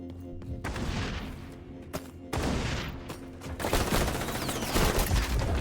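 Gunfire in the video game xDefiant plays as bursts of sharp shots, with sniper fire among them, in dense, rapid clusters close by and growing heavier toward the end.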